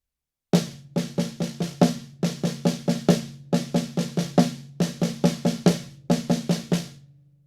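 Snare drum playing an inverted five-stroke roll, a single stroke leading into doubles, repeated in several tight, even bursts, loud and close-miked, alone with no speech.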